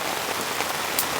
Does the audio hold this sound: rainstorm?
yes